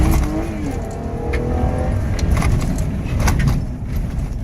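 A flood-damaged Ram pickup truck revs hard at full throttle on uneven pavement, its engine roaring steadily up close with rising pitch.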